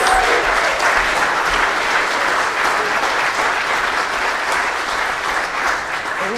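A church congregation applauds and cheers during Sunday worship, a loud sustained wash of clapping that holds steady throughout without pause, with no talking over it.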